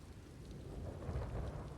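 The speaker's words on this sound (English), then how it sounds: "Earlsar's up ahead, in the eye of the storm." Thunderstorm with steady rain in Elder Scrolls Online (Summerset), a constant wash of rainfall over deep rolling thunder that swells louder toward the end, with no voices.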